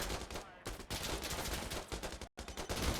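Mortar explosions and gunfire in the shooter game Insurgency Sandstorm: a dense run of loud booming bursts with a brief gap, heard up close and filling the whole moment.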